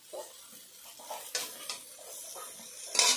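Fried okra being lifted out of a pan of oil, with soft sizzling, scraping and clinks of a utensil against the pan in a quick uneven series, ending in a sharper metallic knock.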